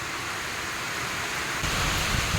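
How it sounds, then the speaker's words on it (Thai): Steady rain falling continuously in a rural Thai setting, a dense, even hiss that swells slightly louder toward the end, with no voices. "ตอนนี้ฝนตกกระนำบ่หยุดเลยครับตั้งแต่เมื่อคืนแล้วนะครับนะ"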